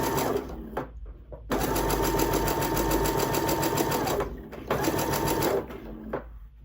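An electric sewing machine stitching a quarter-inch seam on quilt pieces, fast rapid needle chatter in close bursts, starting and stopping twice with brief pauses between runs.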